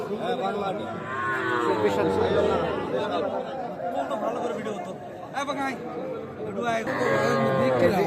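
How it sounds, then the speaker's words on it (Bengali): A Bangla breed cow moos loudly and repeatedly at a busy cattle market in Sirajganj, long drawn-out calls rising over nearby chatter and bargaining voices. "এটা বাংলা গরু।"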